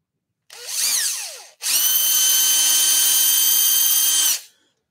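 A drill bores through wood while turning a German smoker, with a short whining burst followed by a longer steady high-pitched run that stops abruptly; loud and close, with no talking.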